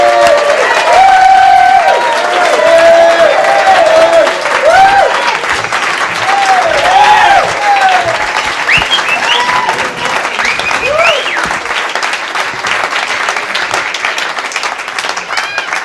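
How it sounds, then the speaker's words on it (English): Loud applause and cheering from a comedy club audience welcoming a stand-up comedian, dense clapping with whoops and shouts layered over it, holding steady for the whole stretch. "Please, a nice round of applause for the comedy of Fred."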